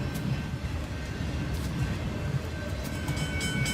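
Train rolling along in the video game Leo's Fortune, a steady low rumble with faint rhythmic clatter, loud and continuous with no voices.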